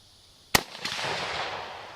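A single loud crack from a 7.35 Carcano rifle fired at an outdoor range in Florida, followed by a brief echo and a lingering rumbling decay.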